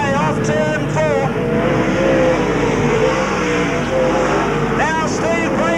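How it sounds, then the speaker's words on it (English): Race cars at the 1986 Gary Patterson Drivers Cup, with loud engines rising and falling in pitch as they pass, under continuous race commentary. "18 car of Ian Lewis kicking away off turn 4"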